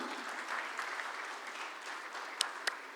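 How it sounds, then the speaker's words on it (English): Faint, thin applause from a workshop audience, a small scattering of hands clapping steadily, with a few sharper individual claps toward the end. "Big round of applause."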